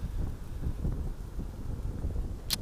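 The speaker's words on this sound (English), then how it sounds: "It's really windy up here." Strong wind buffeting a microphone on a hilltop lookout in California, a continuous low roaring rumble with gusty swells throughout and a brief crackle near the end.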